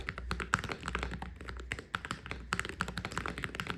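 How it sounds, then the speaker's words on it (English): Rapid, steady typing on a Hall effect gaming keyboard with crisp tapping keystrokes and occasional heavier thocks, recorded close and without talking. "as a Hall effect gaming keyboard, it's incredible. It sounds and feels really nice to type on."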